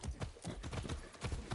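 Horse hooves clip-clop in a steady, even rhythm while riding horseback in the video game Far Cry 6, the footfalls close and clear against a low bed of background noise, with no talking over them.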